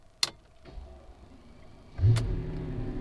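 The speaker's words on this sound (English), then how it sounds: "So let's just turn this car on." A Mercedes-Benz S600 starts up with a faint key click and brief whir, followed by a low engine catch and steady smooth idle, quiet and close.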